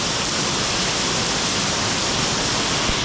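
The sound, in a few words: rainwater pouring off building like waterfall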